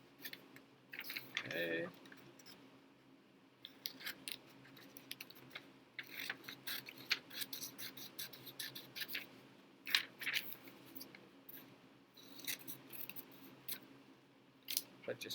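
Scissors cutting little paper pictures out of a page, a run of crisp close snips and rustling paper in quick irregular bursts, with a brief spoken word partway through.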